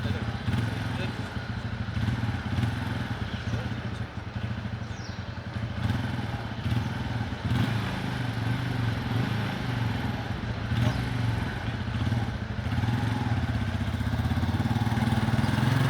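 A motorcycle engine runs steadily while being ridden, a continuous mid-pitched drone with some rattle, fairly close and constant, with a voice talking faintly over it at times.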